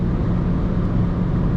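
A 2025 MG3 Hybrid+ (194 hp) accelerates on the motorway, its engine and road noise forming a loud, steady, close rumble inside the cabin.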